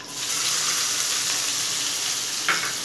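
Chopped onions frying and sizzling in hot oil in a pan while making rava upma, a steady close hiss throughout with a faint stir near the end.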